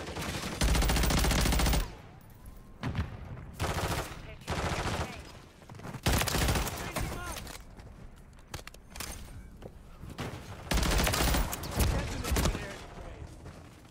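BP50 assault rifle gunfire in Call of Duty MW3 multiplayer, loud bursts of rapid automatic fire alternating with shorter volleys and game effects, while a player talks over the action.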